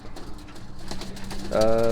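Roller pigeons in a loft with a young group and an older bird, giving a rising, throaty coo that swells near the end over a low, busy background, with someone speaking faintly earlier.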